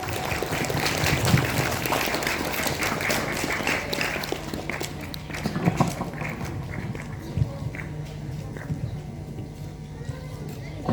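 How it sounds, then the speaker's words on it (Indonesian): An audience applauds a contestant at a recitation competition for reading classical Islamic texts. Steady clapping fills the hall for several seconds, then thins out. "Okey, kasih tepuk tangan dulu kepada"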